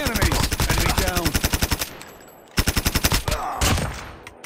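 Rapid automatic gunfire crackles in a Call of Duty Mobile battle royale match, two long close bursts of evenly spaced shots separated by a brief pause, with a shorter volley and scattered shots after.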